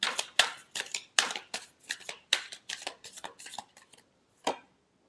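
A deck of tarot cards shuffled by hand: a quick run of crisp riffling bursts, then a short pause and one last flick, close and clear with no voices.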